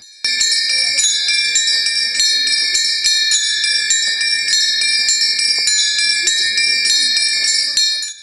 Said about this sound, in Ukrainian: почути і побачити, як відтворюються на декоративних дзвонах мелодії